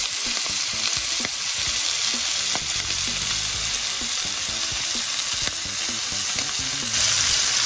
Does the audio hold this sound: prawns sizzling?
yes